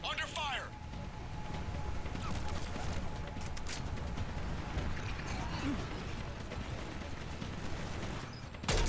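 Rapid gunfire crackles through a Mass Effect 3 firefight in the Leviathan DLC, with dense bursts of shots running steadily under voices and a low, rumbling battle din.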